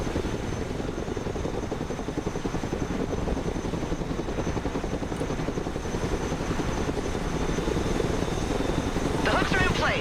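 A Chinook helicopter in the Broken Arrow video game flies with a constant, even rotor thrum and engine drone that holds steadily throughout at moderate loudness.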